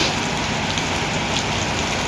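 Steady rain pours down outdoors during a wet road trip, a dense continuous hiss of drops hitting surfaces with no pauses and no voices.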